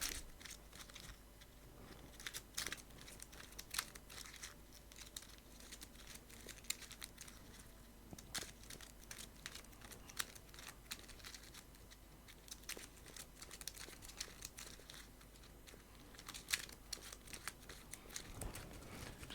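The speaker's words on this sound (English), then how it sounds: "give these a good shuffle" Sleeved game cards for a Heroquest board game being shuffled by hand: faint, quick, irregular riffling clicks and soft slides continue throughout, with no talking.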